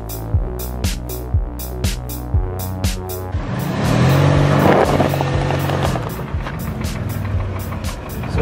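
A two-wheel-drive off-road vehicle in rear gear tries to drive out on recovery traction boards at an off-highway vehicle park, with sharp rhythmic clanks and knocks before the engine swells into a loud, sustained revving strain with rattling.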